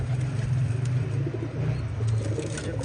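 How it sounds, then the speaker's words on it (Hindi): Golden pigeon cooing in low, repeated throaty phrases close by, steady over a soft background of other birds and distant chirps. "माशाल्लाह बड़ा गोल्डन कबूतर है।"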